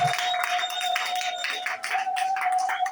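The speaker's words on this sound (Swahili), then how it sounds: "Pigia Yesu makofi na vigelegele." A church congregation claps and ululates in praise, a steady wash of crowd applause with a high sustained trilling tone running over it throughout.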